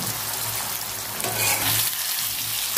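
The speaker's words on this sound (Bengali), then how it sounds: "ভালো করে ভেজে নেব।" Pumpkin slices fry with spices in a pan, giving a steady, dense sizzle that swells slightly midway, close by with no voices.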